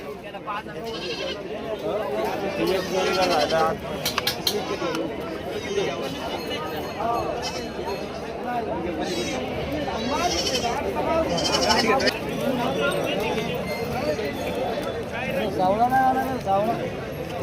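Goats bleat repeatedly amid the steady murmur of a crowd, with people talking throughout at a busy outdoor goat and sheep market in Shirur taluka, Pune district, Maharashtra.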